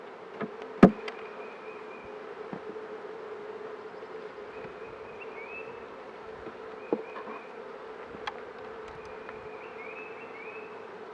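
Honey bees buzz steadily around an open hive during a full inspection, a close continuous hum with a few sharp clicks and knocks from handling the frames.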